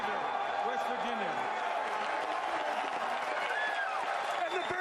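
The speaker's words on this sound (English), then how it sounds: "Listen to this crowd." A stadium crowd cheers and roars after the Chicago Bears take wide receiver Kevin White at the 2015 NFL Draft, a dense, sustained wall of voices and applause with no pause across the span.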